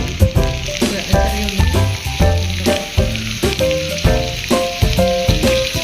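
Small onions (shallots) fry in a hot pan with a loud, steady sizzle, broken by repeated clinks and scrapes of stirring, close up and with no talk.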